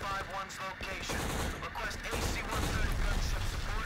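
Rapid AK rifle bursts crackle in the shooter video game Black, repeated automatic fire rattling continuously amid dense in-game action and faint voices.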